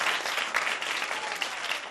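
A group of children claps together at a storytelling gathering, producing brisk, continuous applause that stays lively and fairly close throughout, with no talking over it.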